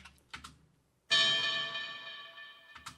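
A struck bell rings out as one layer of a melee attack sound for the game Wizard With a Gun, one bright metallic strike with a shimmering tone that decays slowly, between soft clicks and taps.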